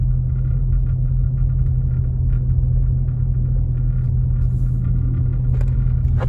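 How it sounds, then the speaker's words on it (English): A car approaches on a snowy mountain road near Big Bear Lake, its engine and tire rumble a constant low drone, fairly loud and close, with no talk. "There's a car coming."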